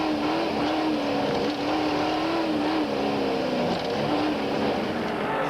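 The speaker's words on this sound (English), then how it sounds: "Back with Cliff Barker in the Pennzoil Land Rover as he goes past the slowing down Richard Leak in the other Castrol Hilux" A Pennzoil Land Rover racing at Kyalami circuit in a 1997 production vehicle race: a loud, continuous engine drone heard from onboard, its pitch wavering slightly as the driver holds speed, with no talk.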